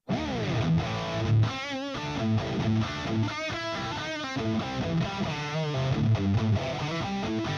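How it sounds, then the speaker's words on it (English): Electric guitar with the gain cranked near maximum, playing dense, saturated chords and riffs, loud and continuous with a thick, fuzzy tone and little clarity throughout. "Most guitarists think they need more and more distortion, so they crank the gain to 10 or 11."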